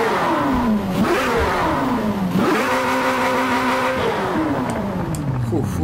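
Car engines in the DriveClub racing game, including muscle cars like Camaros and Dodges, rev hard and continuously, rising in pitch through gear shifts with a dense, loud roar.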